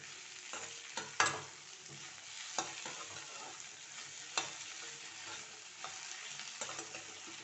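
Okra fries in oil in a pan, a steady close sizzle broken by sharp scrapes and clacks as a spatula stirs it every second or so.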